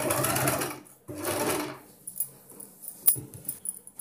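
A sewing machine stitches a boat neck blouse in two quick bursts of fast mechanical whirring, close and loud, followed by quieter clicks and handling taps as the fabric is adjusted.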